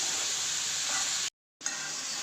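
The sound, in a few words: turnip with hilsa fish bones stir-frying in a pan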